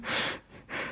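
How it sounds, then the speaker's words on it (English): Someone sleeping during a guided meditation session breathes in two rough, airy snore-like draws separated by a brief pause, soft and close with no talk. "So you can hear the snoring."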